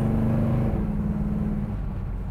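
A 1971 Chevrolet Monte Carlo engine rumbles steadily at close range, a deep idling hum with a slight drop in pitch partway through, with no one speaking.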